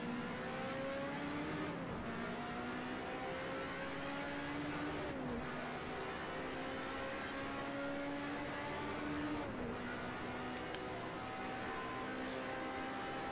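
A racing car engine in a racing video game, revving high with steady gear-change dips roughly every few seconds, loud and continuous with no voices over it.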